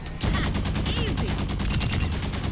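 Rapid bursts of weapon fire from Sierra in the Overwatch video game, loud dense repeated shots at a normal fire rate, continuous through the clip with no talking.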